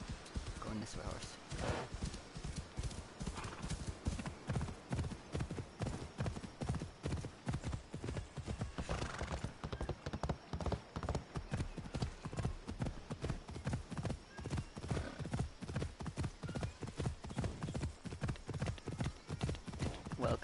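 Horse hooves clip-clopping steadily in the Assassin's Creed video game, a continuous rhythmic trot of clear, evenly spaced hoofbeats that runs throughout at moderate, quiet volume.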